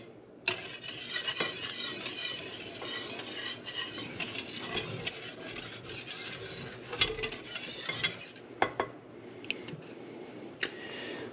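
A spoon scrapes and stirs a simmering roux in a pot, a steady rubbing, clinking texture running throughout with a few sharper knocks against the pot, close and moderately quiet, with no talk.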